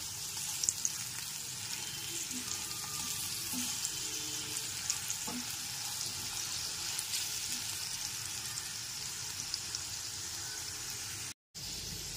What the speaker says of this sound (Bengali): গ্যাসের ফ্লেমটা লো টু মিডিয়ামে রেখে আলুর টুকরোগুলোকে 3 থেকে 4 মিনিট ধরে ভেজে নিলাম।